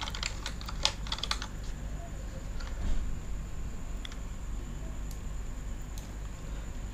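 Typing on a computer keyboard while designing a Picnic party poster in Adobe Photoshop: quick clusters of close key clicks with short pauses, then sparser single taps over a steady low room hum.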